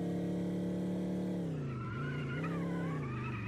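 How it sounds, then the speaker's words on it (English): A car in a video game drifts with a long, loud tire skid over steady engine drone, the pitch sliding and wavering as it slides through the turn, with no talk. "We're going to do drifts"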